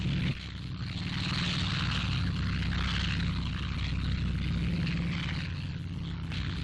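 Mitchell bomber flying low during the D-Day campaign, a continuous loud droning roar of piston engines and propellers holding steady throughout, with no talking.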